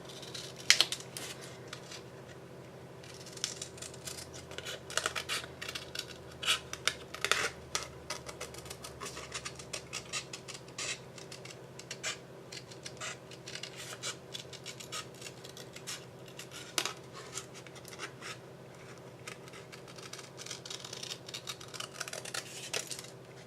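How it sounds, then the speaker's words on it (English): Scissors snipping out a paper belly band for a handmade mini album, a steady run of close, crisp cuts and rustles lasting throughout with no talking. "So we're just going to cut out the belly band here."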